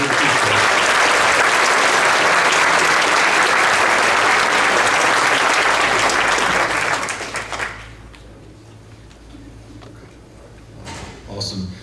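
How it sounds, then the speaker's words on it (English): An audience at a county board of education meeting applauds a girls' school team, giving loud, dense clapping that holds for about seven seconds, then fades out, leaving a quiet room with faint scattered noises. "We give these ladies a round of applause."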